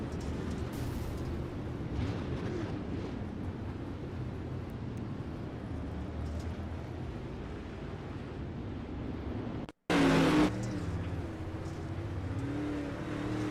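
Dirt late model race cars in a Pro Late Model Dirt Series feature at Weedsport, a steady roaring engine drone that swells and fades as the field circles the track, with one brief loud burst near the end.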